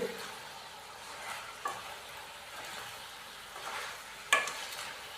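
Chicken sautéing in a pan with red chili powder and crushed red chili for a Kachnar murgh curry: a soft, steady sizzle with a few scraping stirs and clinks of a utensil, fairly quiet and without talk.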